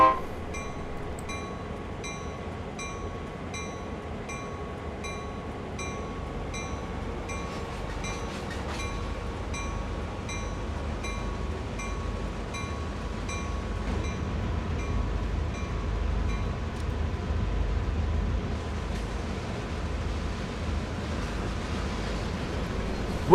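A Peninsula Corridor commuter train in the Train Sim World 2020 video game slowly moves off in reverse, a low rolling rumble with a faint steady tone that builds gradually as it gathers pace, with no voices.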